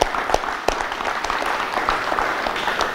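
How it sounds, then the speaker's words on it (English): Applause from an audience at a basketball coaches conference, a dense, steady clatter of many hands filling the room at close range, with a few sharper claps standing out and no talking. "let's give these guys a round of applause."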